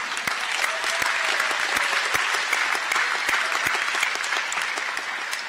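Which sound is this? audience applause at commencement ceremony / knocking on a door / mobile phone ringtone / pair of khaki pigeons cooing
audience applause at commencement ceremony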